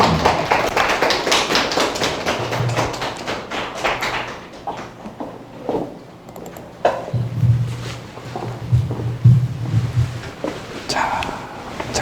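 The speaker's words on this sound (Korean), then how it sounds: "네, 강성훈 선배를 박수로 한번 모시겠습니다." A seminar audience at a graduate school information session claps to welcome a speaker, a dense burst of close applause that thins out after a few seconds, followed by shuffling, thumps and a voice talking.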